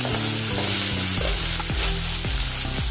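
Onions hitting hot oil with mustard seeds and cumin, a loud continuous sizzle and crackle, with low rhythmic tones running underneath throughout.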